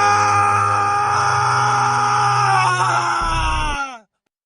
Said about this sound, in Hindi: किसान की एक दर्द भरी चीख पूरे गांव में बसर जाती है